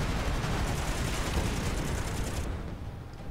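Dense, continuous gunfire rattles loudly and without pause in the space combat game Miner Wars 2081, aimed at the player, then thins out slightly near the end.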